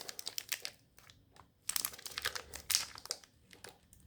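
A Pokémon Sun and Moon booster pack being torn open: a run of close, sharp crinkling and ripping bursts of foil wrapper, stopping and starting, with a few brief pauses between pulls.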